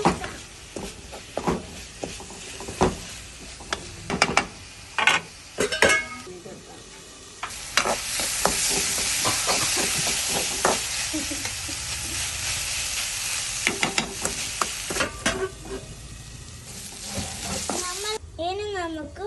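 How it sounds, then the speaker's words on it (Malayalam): Onions frying in a pan are stirred by hand, with a strong sizzling hiss through the middle, utensil scrapes and clacks spread across the clip, and quieter stirring clicks at the start and end. "ഇനി നമുക്ക് കുറച്ച് സമയം ഇളക്കാം."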